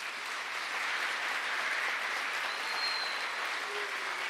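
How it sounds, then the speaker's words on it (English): Warm audience applause at a school's Anne Frank tree planting ceremony, a steady wash of many hands clapping at a distance, even in level and fairly soft throughout, with no voices over it. "So please give them all a warm round of applause."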